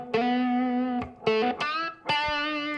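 A distorted electric guitar plays a short lick with a hammer-on, a bend and a held vibrato note, loud and close, heard alone.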